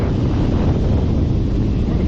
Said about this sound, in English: you can hear there's quite a bit of air coming out of there